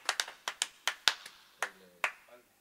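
Scattered hand claps from a small studio audience for keyboard player Vito, a handful of sharp irregular claps close by that thin out and stop.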